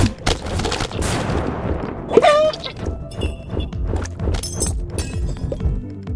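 A bomb goes off in the dungeon-crawler game Epic Dungeons, a sharp burst of blasts and shattering crashes amid other rapid game effects, loud and close.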